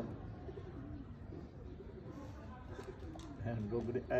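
Soft coos from Sialkoti pigeons repeat close by, with some quiet background noise and a few brief chirps near the end.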